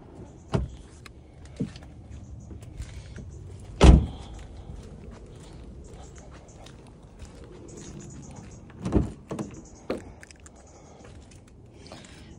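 Electric windows on a used car whir up and down in short motor runs, with a few sharp clunks as each stops, heard close inside a quiet cabin.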